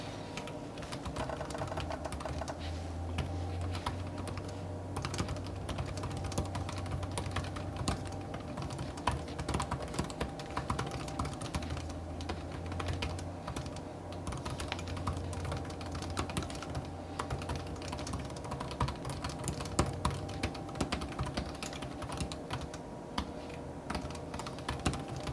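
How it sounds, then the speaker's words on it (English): Quick, even clatter of typing on a 2025 Lenovo Slim 7 laptop keyboard, with soft, rapid keystrokes running continuously and quietly for the whole stretch. "We'll give you just a little bit of a typing test here on this Slim 7 for 2025."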